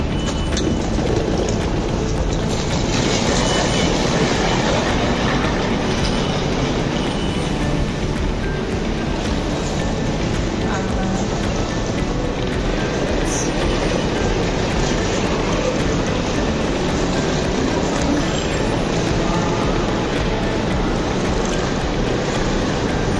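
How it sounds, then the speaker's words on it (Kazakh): A metro train runs through a Milan metro station, a loud, continuous rumbling roar that stays steady throughout with no voices. "Метро екен, шынымен."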